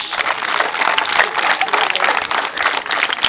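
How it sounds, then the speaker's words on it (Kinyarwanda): An audience at an outdoor community gathering in a Rwandan village claps steadily and densely for about three seconds, a continuous wash of many hands with no talk over it. "umwongera amashyi menshi"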